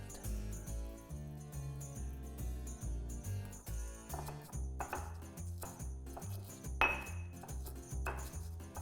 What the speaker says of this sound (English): Of course, you need a pestle and mortar.